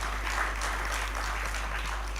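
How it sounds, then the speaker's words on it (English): An audience applauds the British High Commissioner at a policy conversation on anticorruption in Nigeria, a steady, fairly faint wash of clapping over a low hum throughout. "Please, let's keep the applause going for"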